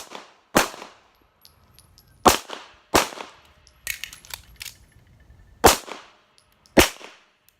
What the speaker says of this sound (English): and fire 2 more shots